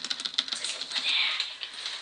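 Rapid clicking of computer keyboard keys while entering text in a Paint.NET tutorial, a steady close patter of keystrokes with no one speaking.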